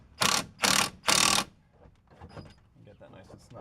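Close-end wrench ratcheting to tighten a bolt on a Mazda 626 axle, three loud bursts of clicking in quick succession close to the microphone, followed by softer metallic handling sounds.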